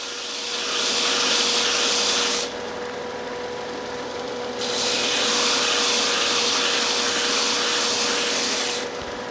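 Sanding a painted wooden napkin holder by hand, a steady broadband scraping rasp that comes in two long strokes with a quieter pause between, close and alone with no talk.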